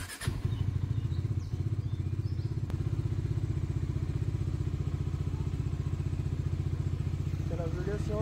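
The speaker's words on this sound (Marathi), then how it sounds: "म्हणून सकाळी सकाळी बाईक जरा वेळ चालू करतो।" A motorbike engine idles steadily and loudly for the whole stretch, warmed up early in the morning before a ride to Kolhapur, with a low even throb and a single sharp clack partway through.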